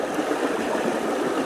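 A mountain stream near Abiqua Falls in Oregon flows with a constant close rushing hiss and no breaks or voices.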